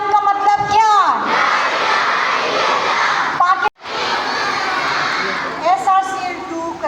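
A large crowd at an Independence Day celebration in Karachi roars a slogan back in loud unison, a sustained wall of shouting that briefly cuts out, then surges again, with a single leading voice calling before and after.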